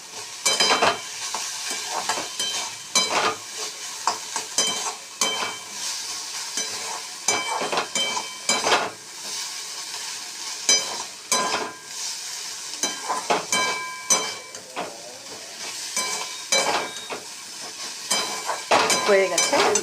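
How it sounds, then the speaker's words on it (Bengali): Potatoes fry in a pan as a side for panta bhat, a steady sizzle broken by repeated scraping stir strokes, close and fairly loud for the whole stretch, with occasional faint voices. "এখানে পান্তা ভাতের আলু ভাজা হচ্ছে"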